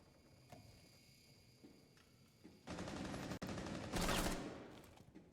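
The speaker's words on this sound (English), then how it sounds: "You see the gunshots." Rapid automatic gunfire crackles in a Rainbow Six Siege match from a collegiate esports game, faint at first and then two dense, sustained bursts of shots with a short break between them.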